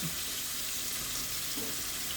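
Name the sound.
rinsing paintbrush in water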